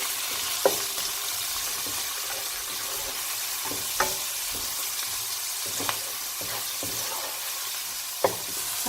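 Chopped tomatoes and powdered spices fry in a pan with a steady, soft sizzle, broken by occasional sharp ticks and stirring scrapes, and no talking.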